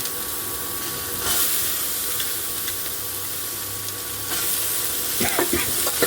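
Peeled field beans hit sautéed onions in a pan, giving a steady close sizzle and hiss that swells when they go in, with some scraping near the end.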